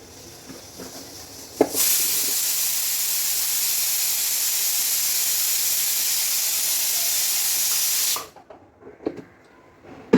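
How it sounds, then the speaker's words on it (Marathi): A kitchen pressure cooker boiling potatoes lets off a loud, steady steam hiss that starts sharply, holds for about six seconds and then cuts off, with faint knocks before and after. "आता मी बटाटे लावलेले आहेत कुकरमध्ये उकडायसाठी"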